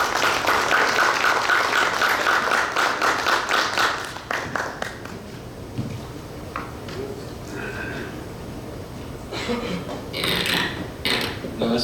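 An audience at a book launch for Snakes in the Ganga claps for a speaker, a loud dense burst of applause for about four seconds that thins into scattered claps over a room murmur, with someone beginning to speak afterward.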